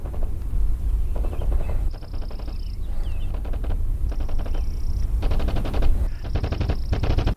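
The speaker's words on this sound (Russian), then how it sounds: "Звуки выстрелов будут издавать эхо, если находятся далеко." Bursts of rapid distant gunfire in the video game Battlebit Remastered repeat several times, each rattling volley trailing into a ringing echo, heard against a steady low rumble.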